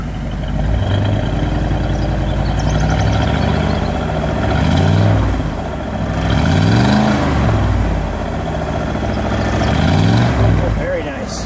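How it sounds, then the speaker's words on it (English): Car engine with dual exhaust revving in several swells that rise and fall over a steady idle, loud and close, with people talking underneath. "let's give it a little rev"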